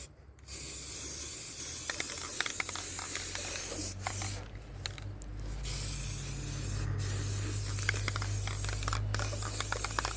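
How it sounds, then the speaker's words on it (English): An aerosol spray paint can sprays a steady, close hiss for several seconds at a time, with brief pauses between bursts, while a crushed metal tree stand is being restored. "Plus spraying the screen's kind of using a lot too."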